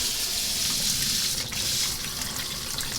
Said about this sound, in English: just give it a nice little rinse